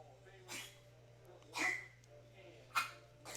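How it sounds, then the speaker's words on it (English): Dog at home giving a few soft, short barks or huffs spaced about a second apart, faint and slightly distant over a low steady hum. "You guys hear my dog?"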